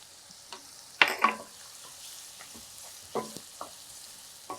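Carrot, cauliflower and broccoli being sautéed in a pan for rava oats kichadi, with scattered stirring scrapes and soft intermittent sizzle, a louder clatter near the start and a few sharper knocks later, with no talking.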